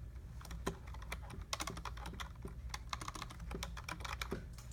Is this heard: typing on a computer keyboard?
yes